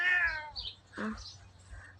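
A pet cat meows twice in quick succession, close and fairly loud, with a brief bird-like chirp following in a quiet room.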